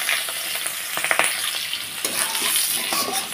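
Chopped onion and whole cumin sizzle in hot oil as the tempering is stirred. A loud, close, continuous frying hiss is punctuated by quick scraping strokes, with no voices.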